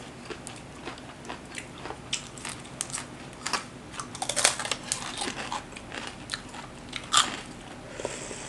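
Crisp crunching bites into Thai crispy pork crackling, a string of sharp, close crackly snaps and chewing crunches at an uneven rhythm, with louder crunches now and then, and no talking.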